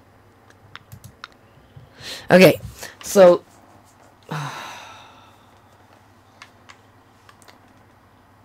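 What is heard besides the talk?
computer mouse clicking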